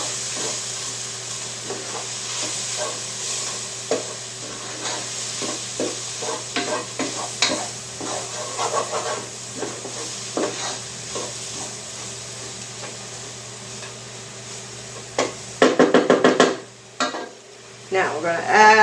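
A spoon stirs mushroom broth with a whole star anise and a bay leaf in a pot, scattered scraping knocks over a low steady hum, ending in a louder burst of clanking and sizzle.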